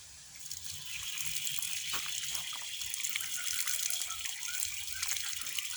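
Tap water gushing steadily into a sink as hands are washed for ablution, a close, continuous hiss-like stream with slight splashing variations and no talk.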